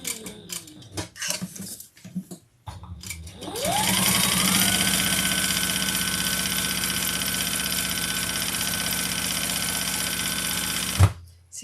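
Sewing machine runs at a steady whirring, buzzing pace as it stitches along a seam guide, after a few short starts and fabric handling noises, then stops with a clunk.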